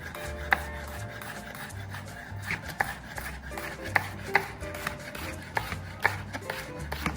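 A knife slices a jalapeno on a cutting board while shakshuka is being prepared, with a series of crisp, irregular cuts over a low background hum.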